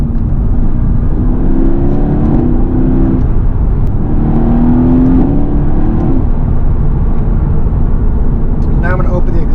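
A Mercedes-AMG GT S engine is held in gear in manual mode, giving a loud, continuous drone from inside the cabin with two rising rev sweeps that climb and fall back.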